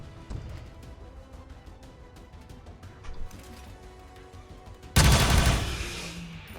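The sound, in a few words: gunshot in the video game XCOM 2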